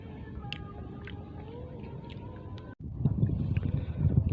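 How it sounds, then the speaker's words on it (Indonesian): Strong wind on the open sea buffets a small fishing boat, a steady broadband roar with gusts and water wash, growing louder and rougher in the second half after a brief dropout. "Anginnya kenceng mas,"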